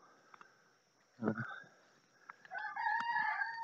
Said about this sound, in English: This old barn with that crazy ass rooster.